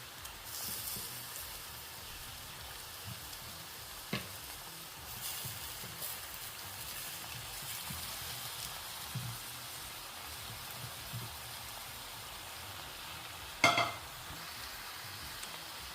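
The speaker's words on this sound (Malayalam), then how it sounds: "ഇനി നമുക്ക് അതിലേക്ക് നേരത്തെ കഴുകി വൃത്തിയാക്കി വെച്ചിരുന്ന ചിക്കൻ ഇട്ട് കൊടുക്കാം" Chicken pieces, about one and a half kilos, go into a pan of fried onions and chilies, giving a faint, steady sizzle with a few brief clinks and one sharp clatter near the end.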